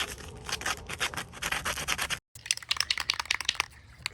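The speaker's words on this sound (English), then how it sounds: "Before painting, I first quickly sand down each of the parts." Hand sanding of 3D-printed prop parts ahead of painting, a close, steady series of short abrasive rubbing strokes with a brief pause in the middle before the scraping resumes.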